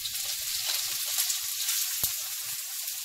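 Garlic and onion sizzle in hot oil for pancit, a steady close crackle and hiss throughout with one brief sharp clatter midway.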